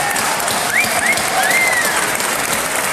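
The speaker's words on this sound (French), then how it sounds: "je pense qu'il faut donner une bonne main d'applaudissement" An audience applauds steadily for three seconds in a dense, even wash of clapping, with a few faint whistles rising above it.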